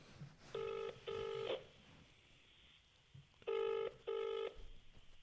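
A phone line rings back while a call is placed, two double-pulse ring tones separated by a quiet gap, clear against faint background noise.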